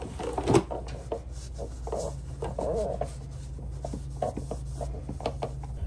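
Rag wiping residual oil off the front differential of a 2020 GMC Sierra Denali HD after a fluid change, giving soft close rubbing and scraping strokes in an irregular rhythm, with a louder knock near the start.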